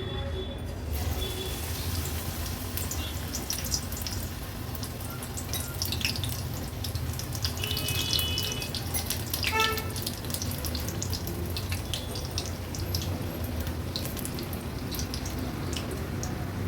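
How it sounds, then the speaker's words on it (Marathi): Spinach leaf fritters dipped in batter fry in hot oil over a medium flame, giving a steady, dense crackle and sizzle that runs throughout, with a few brief clinks and scrapes of utensils on top. "लगेचच आता भजी घालूया आपण"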